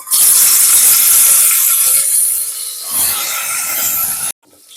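Peeled potatoes fry in hot mustard oil with a loud, steady sizzling hiss that eases slightly midway and then cuts off abruptly just before the end.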